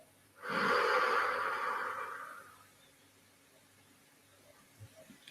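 A single long exhalation, a strong breathy blow of air lasting about two seconds and tapering off, during a guided breathing exercise with the belly drawn in, followed by near silence.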